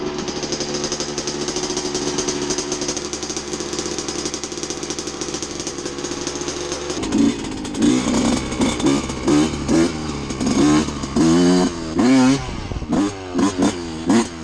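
A dirt bike engine drones steadily on a trail, then revs in sharp repeated bursts with rattling and popping, loud and close, no talking.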